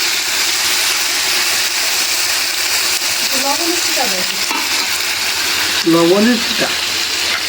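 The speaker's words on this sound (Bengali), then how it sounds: "এটাকে একটু তেলে ভাজা দিয়ে নেব" Taro pieces frying in oil give a loud, continuous crackling sizzle, with brief voices cutting in partway through.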